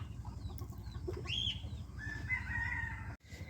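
A small black-bodied, white-crested Polish cap chicken clucks among other fowl, with soft calls and a few higher squawks over a steady low hum, fairly faint and close.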